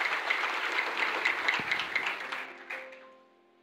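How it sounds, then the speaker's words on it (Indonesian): An audience at a church sermon gives a round of applause, steady clapping that stays even for a couple of seconds, then tapers off and fades into quiet. "Beri tepuk tangan."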